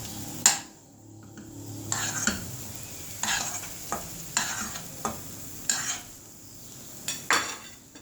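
A spoon scrapes and knocks through coconut halwa in a pan in a series of separate stirring strokes with quiet pauses between them, close and soft, and no one speaks.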